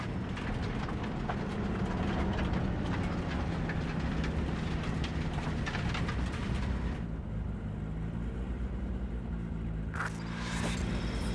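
A train in the video game Cyberpunk 2077 rumbles and clatters steadily, a dense mechanical roar that drops away abruptly partway through, leaving a quieter low hum before a brief sharp burst near the end.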